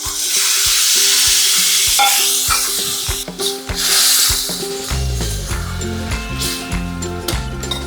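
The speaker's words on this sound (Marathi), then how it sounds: "आता ह्याच्यात आपल्याला चिंचेचं पाणी टाकायचं आहे" Tamarind water poured into a pan of cluster beans cooking with dried fish, giving a loud, steady sizzle and hiss with stirring scrapes, the sound turning bubblier and heavier in the second half as the liquid hits the hot pan.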